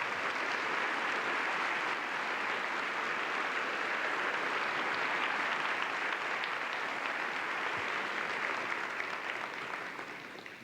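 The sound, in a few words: audience round of applause for students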